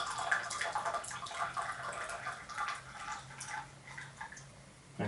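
A continuous splashy trickle of water poured out of a pot, close and moderately loud, with occasional drips, ending in a small clatter.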